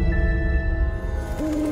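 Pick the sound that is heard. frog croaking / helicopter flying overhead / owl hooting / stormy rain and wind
owl hooting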